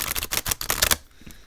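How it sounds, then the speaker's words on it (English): Oracle cards are riffled and shuffled close up, giving a quick run of crisp papery flicks for about a second before it falls quiet apart from a faint tap. "They shuffle really nicely."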